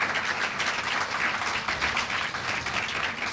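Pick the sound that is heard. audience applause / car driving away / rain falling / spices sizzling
audience applause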